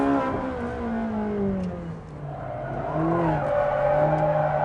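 A car engine pulls hard and revs up through the gears, with a rising whine that drops briefly at a shift midway and then climbs again, loud and close.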